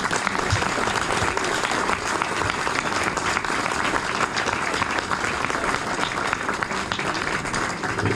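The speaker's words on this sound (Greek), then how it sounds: "Λοιπόν, αυτά τα παιδιά νομίζω ότι αξίζουν το χειροκρότημά σας." Audience applause for young sailing regatta participants at a ceremony on Sifnos, steady dense clapping from a sizable crowd sustained throughout, with no talk over it.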